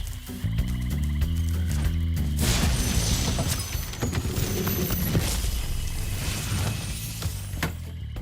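Attack frogs croak in a swamp in Spyro Reignited Trilogy, with rhythmic croaking over the game's music followed by crashes and busy action sounds.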